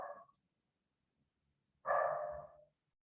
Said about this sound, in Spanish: lo voy a callar al perro